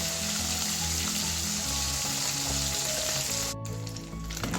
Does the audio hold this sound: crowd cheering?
no